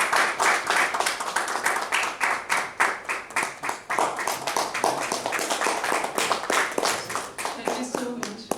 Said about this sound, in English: one more big round of applause for him